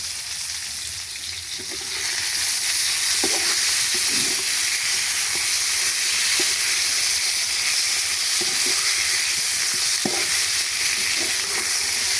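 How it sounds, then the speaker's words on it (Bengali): Fish sizzles in hot oil in a pan on a home stove, a steady bright crackle and hiss with scattered pops, close and continuous throughout. "এই সাইডে মাছ ভাজতেছি।"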